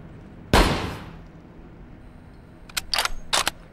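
A single loud, close bolt-action rifle shot in The Walking Dead: Saints & Sinners with a sharp crack and a fading tail, followed a couple of seconds later by a quick burst of mechanical clicks from working the bolt.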